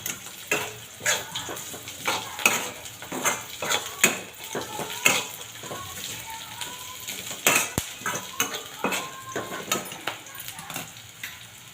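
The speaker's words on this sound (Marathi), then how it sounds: "आता आपण जे परतून घेतलेले बटाटे आहेत ते त्याच्यामध्ये टाकून घेऊया आणि ते देखील चांगल्या पद्धतीने हलवूया." Potatoes and onions stir-fried in a pan for batata kanda pohe, with repeated scraping and clinking of a spoon against the pan over a light sizzle, steady and close.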